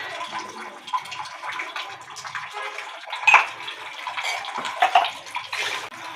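Clothes washed by hand in water, with sloshing and splashing that rises and falls, sharper splashes near the middle and toward the end, fairly close and alone without talk.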